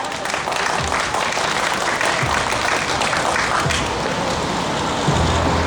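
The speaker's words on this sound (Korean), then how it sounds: "큰 환영의 박수 바랍니다." Audience applause welcoming a pastor at an outdoor press conference on school commute safety and shuttle buses, a steady wash of clapping with crowd noise lasting throughout, fairly loud and close.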